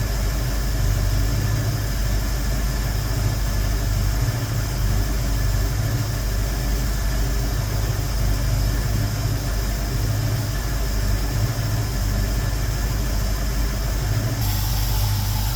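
A classic car engine idles after its distributor has been advanced, a loud, close, steady rumble that runs without a break and shifts slightly near the end.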